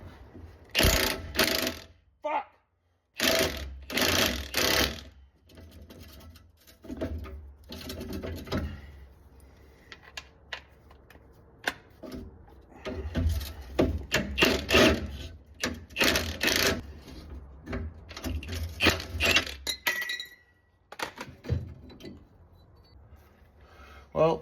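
Camaro exhaust downpipe bolts being removed with a ratchet, bursts of rapid clicking and mechanical rattling in uneven spurts separated by quieter gaps, close up.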